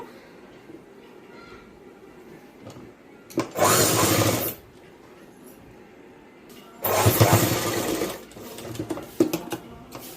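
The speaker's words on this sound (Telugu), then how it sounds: "ఈ విధంగా ఒక కుట్టు అయితే వేసేసేయండి" A sewing machine stitches a pocket onto a school uniform bodice, running loud and close in two steady bursts of about a second and a second and a half, separated by a quiet pause.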